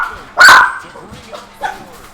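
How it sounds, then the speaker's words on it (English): A pet dog barks indoors: one loud, sharp bark near the mic, then a couple of softer yips and whimpers trailing after it. "Excuse the barking."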